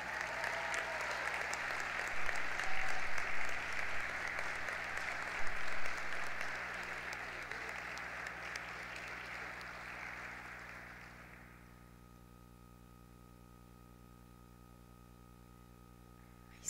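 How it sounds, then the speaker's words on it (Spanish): Sustained applause from the audience at a high school graduation ceremony at Colegio Notre Dame, steady clapping for about eleven seconds that then fades out, leaving quiet room hum. "Sí, reiteramos el aplauso entonces"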